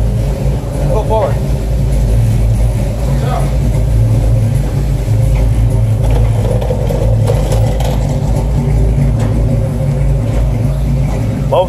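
A 1980 Chevy C-10 fitted with an Escalade engine runs loud and steady in a constant low rumble while both tires spin. Voices talk over it throughout.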